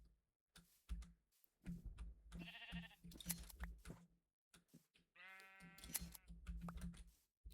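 Sheep bleating in Minecraft, two distinct wavering bleats with game sounds between them, under intermittent talk.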